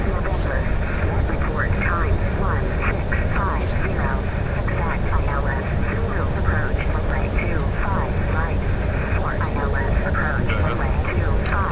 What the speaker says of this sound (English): we started the APU, that is the small auxiliary engine in the rear